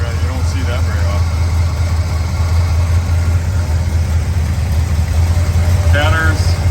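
A 1971 GMC Jimmy with a Carter AFB carburetor, headers and almost no exhaust idles steadily, a loud, rough low rumble that holds even throughout, with people talking over it.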